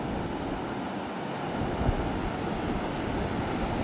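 Sea waves churn around fishing boats at night, a continuous broad wash of surf and wind with a soft thump or two, steady and moderately loud.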